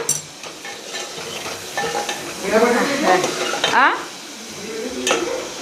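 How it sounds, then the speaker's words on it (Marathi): Masala cooking and sizzling in a pan in a home kitchen, with steady frying noise and scraping stirs of a spoon, some faint voices in the background. "बघा जो मसाला शिजतोय आपला"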